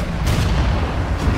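Heavy cannon fire in the Assassin's Creed Unity video game, a dense low rumbling barrage of booms filling the whole moment, loud and continuous with no clear gaps.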